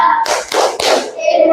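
A classroom group performs a rhythmic 'tepuk sukses' clap chant, several loud, close hand claps in quick succession, with voices chanting along between the claps.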